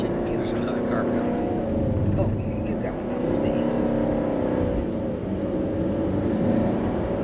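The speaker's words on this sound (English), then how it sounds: "There's another car coming." A car passing by on a road in Marquette, Michigan, its engine rumble swelling and fading under steady interior road noise, with people talking over it.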